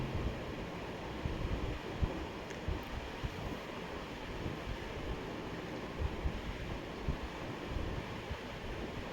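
Strong river current at Chandannagar ghat during high tide, a constant rushing wash of water with wind buffeting the microphone, steady and fairly loud throughout.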